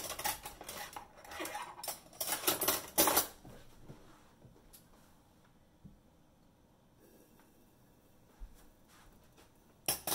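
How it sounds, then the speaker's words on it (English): Washed dishes, pots and cutlery being put away in a home kitchen, with bursts of clinking metal and clattering crockery in the first few seconds, then quieter, sparse knocks and a few isolated clinks near the end. "Then the next step is put away the dishes that you washed earlier."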